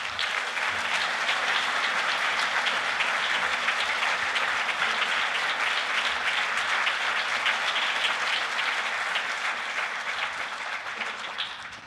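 An indoor audience at Kanbar Hall claps steadily to welcome Alex Gansa. The dense, even applause holds for several seconds and tapers slightly at the end.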